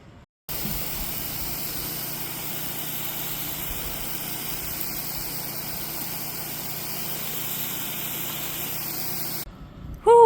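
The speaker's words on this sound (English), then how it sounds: "I'm going to give them a rinse to try to get off as much dirt as possible" Water pours over dirty rocks in a steady, close rushing hiss that holds for about nine seconds before cutting off, with no one speaking.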